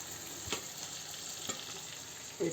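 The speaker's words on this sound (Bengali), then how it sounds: "এটা আমি মুরগির গিলা ভাজা করছি।" Chicken gizzards sizzle in a pan with a steady, fairly quiet hiss, broken by a few soft stirring scrapes, with no talking.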